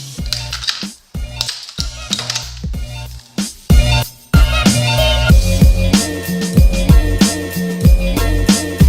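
Blender grinding hardened caramel shards with nuts into praline: hard chunks clatter and rattle in bursts with short pauses, then the motor runs continuously with a steady pulsing grind.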